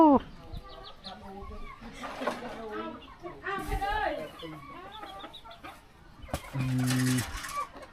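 Chickens cluck and squawk nearby in short, irregular bursts, with people talking over them.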